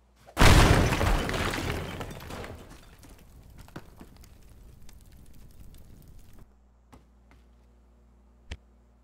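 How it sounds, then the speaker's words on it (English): An explosive detonates inside a wall in the destruction game Teardown, a sudden loud blast followed by rumbling, crumbling debris that fades into sparse ticks and a final thud. "This is so gonna detonate on me."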